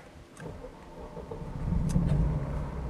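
A Mercedes 190E 2.3 16-valve Cosworth automatic fires up: a short starter whirr and then a low engine rumble that swells and settles into a steady, close idle.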